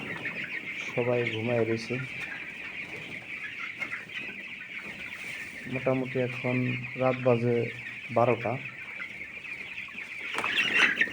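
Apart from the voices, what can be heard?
chickens clucking on a poultry farm at night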